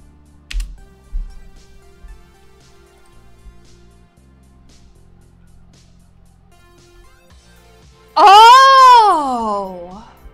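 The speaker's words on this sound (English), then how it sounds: "Do you like my mechanical keyboard? Do you hear it?" Keys clack on a mechanical keyboard in a couple of quick, sharp strokes near the start. A quiet stretch follows, then a loud, high, wavering cry takes over at the end.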